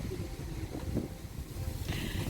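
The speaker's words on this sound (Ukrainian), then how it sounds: "Сьогодні дуже сильний вітер" Strong wind blows outdoors, buffeting the microphone with a continuous low, rumbling roar that swells in gusts, with no clear speech.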